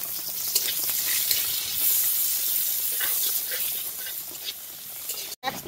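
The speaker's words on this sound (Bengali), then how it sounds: "এবার ক্যাপসিকাম গুলোকে একটু ভালো করে নেড়ে নেব।" Chopped capsicum stirred and frying in a pan with dry red chilli tempering, a steady close sizzle and hiss throughout with occasional scraping of the spatula.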